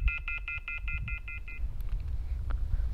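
A GhostTube ghost-hunting phone app with an infrared sensor beeps as a hand nears the phone in a haunted cemetery in Kapunda, South Australia. About eight quick, evenly spaced electronic tones sound close and clear over low background rumble, then stop.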